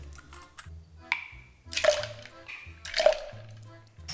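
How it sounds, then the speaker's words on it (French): Tomato juice poured into a cocktail shaker for a vodka drink gives two short gurgling, splashing bursts of liquid, close and fairly loud, with quiet gaps between them. "dans un shaker, tu vas verser une once et demie de vodka, 4 onces de jus de tomate"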